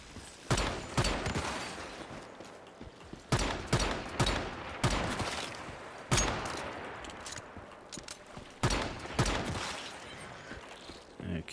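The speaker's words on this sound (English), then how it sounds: "What's shooting at me?" Gunfire aimed at the player in the survival video game Once Human, heard as repeated rapid bursts of shots spaced a second or two apart, moderately loud against a quiet background.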